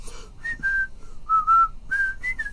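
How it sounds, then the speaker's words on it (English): A man whistles a short tune alone, a series of clear sustained pitched notes with brief gaps, close and moderately loud over faint background noise. "even drunk I can whistle"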